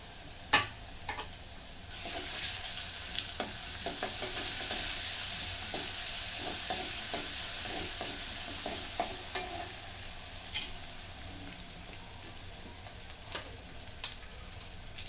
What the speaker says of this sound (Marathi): कांदा भाजून झालाय आणि लसूणची पेस्ट टाकून घेते अर्धा चमचा